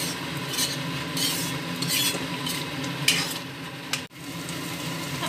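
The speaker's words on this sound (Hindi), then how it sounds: "10 से 15 मिनट हम अच्छे से मसाला को पकाएंगे, धीमी आंच में पकाएंगे," Masala for paneer butter masala cooking slowly in a pan over a low flame, a steady soft sizzle under repeated scraping and stirring strokes, with one sharp utensil knock near the end.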